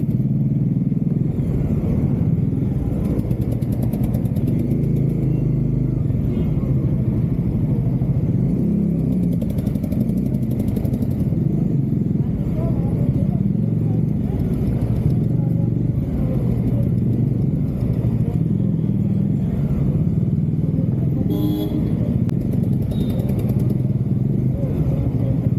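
A Bajaj Dominar 400 single-cylinder motorcycle is ridden along a rough, broken road, its engine rumbling steadily with constant wind and road noise, close and loud for the full length.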